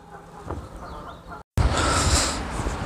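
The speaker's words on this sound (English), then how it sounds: "And I don't know if you can hear the geese." Geese honk beside a canal, squawking calls that rise after a brief dropout amid outdoor wind and ambient noise.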